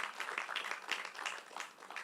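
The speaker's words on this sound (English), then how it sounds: "I just want us to give them a round of applause as well" An audience at a youth diaspora seventh anniversary event applauds a panel with steady, moderately distant clapping that carries evenly for about two seconds.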